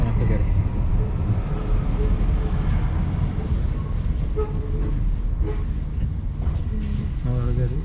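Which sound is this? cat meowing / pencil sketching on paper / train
train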